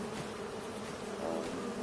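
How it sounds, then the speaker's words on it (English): Bees buzz in a steady, soft drone in Farming Simulator 25, a continuous insect hum with no voices over it. "We do have bees starting off here, which is cool."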